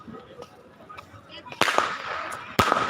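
Two sharp Diwali firecracker bangs burst nearby in Salangpur, each followed by a crackling hiss, with fainter pops and distant crowd and traffic noise before them.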